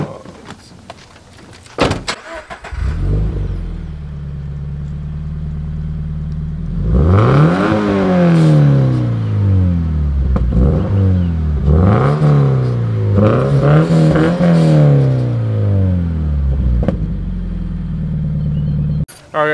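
A 2013 Scion FR-S starts up, its engine catching after a brief crank, then idles and is revved in several rising and falling sweeps before settling back to idle, loud and close.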